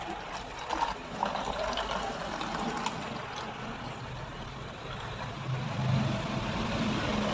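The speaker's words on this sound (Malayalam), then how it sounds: "ഞാൻ ഒന്ന് വേറൊരു ബോട്ടിലേക്ക് ഒഴിച്ച് കാണിക്കാം കേട്ടോ" Guava leaf water poured from one container into a bottle, a steady continuous splashing and trickling stream at close range that fills the whole stretch, rising slightly near the end.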